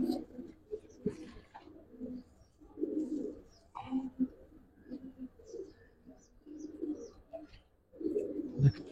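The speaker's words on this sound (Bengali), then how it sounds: "এগুলা আসলে অনেক সুন্দর কবুতর।" Giribaz pigeons coo repeatedly in a loft, soft low throaty calls overlapping in irregular bursts at close range, with faint rustling and no talk.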